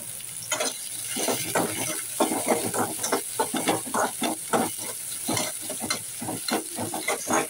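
Onions fry in oil with fennel seeds, close sizzling broken by repeated scraping and stirring strokes in an uneven rhythm, no voices.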